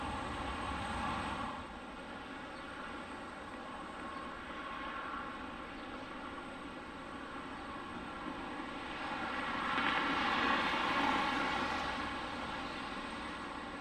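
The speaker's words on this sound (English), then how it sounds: "we look at Southwest 1130 landing on runway 21 left" A Southwest airliner, flight 1130, landing on runway 21 left at Detroit Metropolitan Wayne County airport, its engines a continuous roar that swells and fades, heard from a distance without voices.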